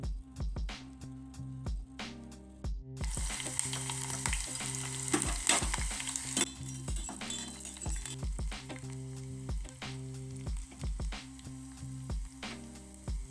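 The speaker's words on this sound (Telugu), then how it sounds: "దీనికి ఇప్పుడు పోపు వేసుకుందాం." A tempering of spices for rasam hits hot oil and sets off a loud, continuous sizzle. Sharp clinks of a utensil against the pan repeat throughout, and the frying bursts brighter partway through.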